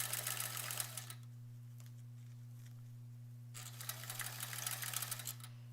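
A sewing machine stitches free-motion quilting through appliqué in two bursts of rapid, steady needle chatter, separated by a quiet pause, over a constant low mains hum.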